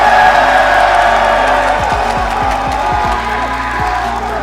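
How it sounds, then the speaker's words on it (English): Esports crowd at the BLAST R6 Major in Atlanta cheering and whooping loudly and steadily, a dense roar of many voices with a few clearer shouts rising above it, while a voice carries faintly underneath. "You can hear the crowd support"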